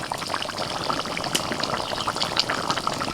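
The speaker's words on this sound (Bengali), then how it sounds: "একটু জোরে জাল দিয়ে আর ঢাকা দেবো না শুধু এই জলটাকে আর একটুখানি কমিয়ে নেব" Chicken curry boils down uncovered over high heat, its liquid bubbling and spitting in the pan with a steady, close, low-level simmer and no voices.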